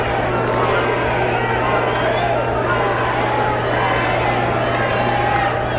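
A high school wrestling finals crowd in a gym, a dense, continuous roar of voices that holds steady and loud throughout, with a low electrical hum beneath it.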